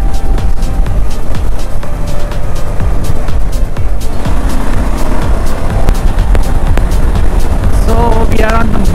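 A KTM 390 Adventure motorcycle is ridden along a highway, its engine a steady loud drone mixed with heavy wind rush throughout, close to the rider.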